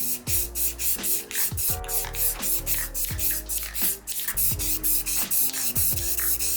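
Spray paint hissing in short, rhythmic bursts as a second coat goes onto PC parts, each spurt beginning and ending abruptly, close and loud, with no voices.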